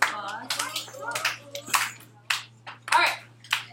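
Children in a classroom give a short round of applause, bursts of clapping mixed with kids' voices and chatter, close and lively, with a steady low hum underneath.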